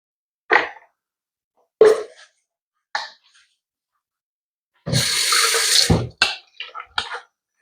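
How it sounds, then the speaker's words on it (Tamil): A few brief splashes, then a steady pour of water into crab curry lasting about a second, followed by several short sloshing bursts close by. "நான் இன்னும் கொஞ்சம் தண்ணி வந்து இதில் சேர்க்க போறேன்"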